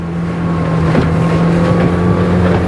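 An aluminium RIB motorboat engine roars at full speed, about 23 knots, a steady loud drone with wind and water rushing past the hull.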